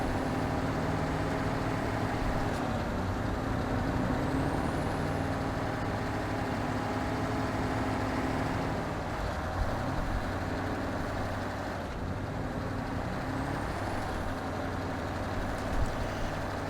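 A heavy truck engine in SnowRunner drones steadily in high gear, a continuous low rumble close up and alone, with no breaks across the whole stretch.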